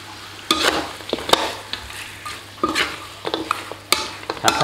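Pork ribs are stir-fried with lemongrass and torn kaffir lime leaves, with a soft sizzle under repeated clanks and scrapes of a spatula against the pan coming in irregular bursts, close up and with no talk.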